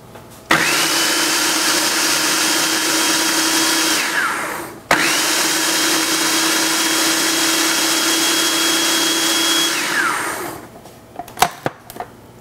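A blender whirs loudly while mixing cherry almond Dutch baby batter, running in two long steady bursts of roughly four and five seconds with a brief pause between, then a few clunks as it stops.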